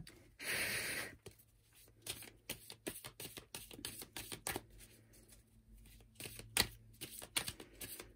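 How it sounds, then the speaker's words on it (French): A deck of oracle cards is shuffled and drawn, giving a burst of riffling followed by a string of short, soft flicks and taps as cards are laid out one by one, close and quiet with no talking. "Je vais tirer plusieurs cartes."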